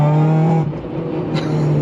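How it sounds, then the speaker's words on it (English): A loud Honda Civic engine drones steadily from inside the car, its low hum dipping briefly before rising again. "You probably won't be able to hear anything but the car"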